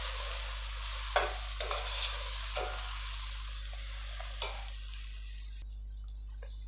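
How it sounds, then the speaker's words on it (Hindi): Garlic and ginger fry with browned onions in a pan for a dhaba-style bhindi masala, a soft steady sizzle under a low hum, broken by a few sharp scrapes of a stirring spoon, no voices. "इसके अंदर लहसुन अदरक डाल देंगे। इनको हल्का सा फ्राई करके इसके अंदर टमाटर डालते हैं।"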